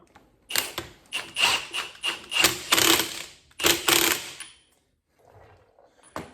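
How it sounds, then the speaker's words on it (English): Rapid mechanical bursts from an impact wrench driving a strut nut back on a Mustang's shock with lowering springs, several buzzing spurts in quick succession, close and loud, then a pause and faint handling noise. "And we'll use an impact, put the nut back on."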